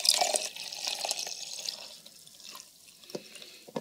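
Water is poured into a half-litre jar holding an egg yolk. A splashy, gurgling stream fills the jar and tapers off, followed by a few scattered drips and taps.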